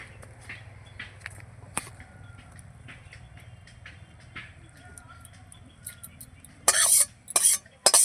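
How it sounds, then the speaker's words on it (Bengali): A spoon scrapes and clinks against a pan while river-fish tel jhal curry with onion is stirred, soft irregular taps over a low hum, ending in a few louder scraping bursts. "ভালো করে এটা আমি নেড়ে দিয়ে লাগিয়ে নেব"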